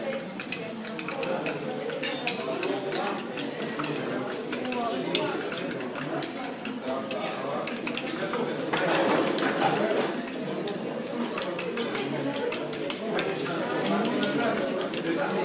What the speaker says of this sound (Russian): И начинаем тщательно перемешивать до однородной массы.